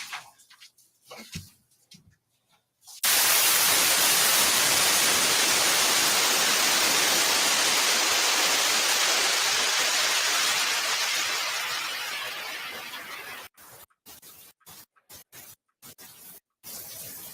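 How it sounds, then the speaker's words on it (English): In a courtroom, a loud, steady white noise hiss masks talk at the bench, switching on abruptly after a few seconds of quiet room sound, holding for about ten seconds, then fading and cutting out in choppy bursts. "they use that white noise because when they're talking up the bench, they don't want anybody in the courtroom to hear what's going on"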